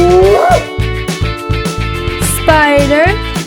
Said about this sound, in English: Hyena.